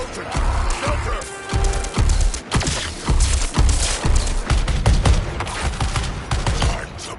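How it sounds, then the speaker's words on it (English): Repeated heavy blasts and gunfire rip through a Suicide Squad video game battle, a loud rapid series of booming impacts and crackling shots with little pause between them. "Here comes the explosion. Shelter!"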